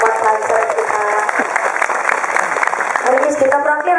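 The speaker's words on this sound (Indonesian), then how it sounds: "saya minta tepuk tangan dulu dong Pak Banser kita" Audience applause for Banser members at a public religious gathering, steady clapping from a crowd mixed with music and voices, fairly loud and continuous.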